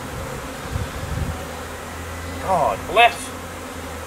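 Bees buzz outdoors between two swarms, a soft steady hum close by, with someone speaking briefly over it.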